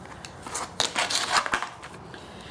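Quick snipping and rustling of scissors cutting through cargo netting on a Jeep Wrangler, several short crisp cuts in a close, quiet setting.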